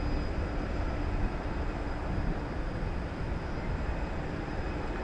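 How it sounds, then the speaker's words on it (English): An Airbus A321neo at DFW airport on a late night produces a steady, dense broadband jet roar that holds evenly without pause. "It's an Airbus A321neo"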